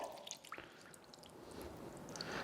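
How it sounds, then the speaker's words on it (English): Water is poured into a pot over stuffed vine leaves held down by a domed plate, giving faint splashing and dripping with a soft, continuous wet rush. "And now I'll just place water on top."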